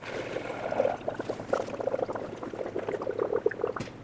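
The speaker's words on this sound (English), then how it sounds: "Add the appropriate type of coolant until the level's full up to the max line." Coolant trickles and gurgles through a funnel into the reservoir of a 1999-2016 Ford E-350 with a 5.4L V8, a steady close liquid pour running for about four seconds with no talk.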